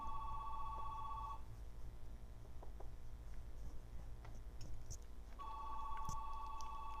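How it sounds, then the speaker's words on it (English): A house telephone rings indoors in a quiet room, two electronic ring bursts separated by a long pause, moderately near and clear. "There's my phone. Yeah, that's my house phone."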